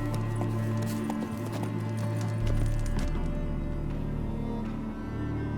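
Horse hooves clip-clop steadily at a walking pace in The Witcher 3, up close and alongside continuous game music and ambience, with no talking.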